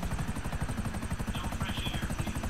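The Akula attack helicopter in the video game GTA Online thrums with a steady, rapid rotor chop and a continuous engine drone, loud and close throughout with no speech over it.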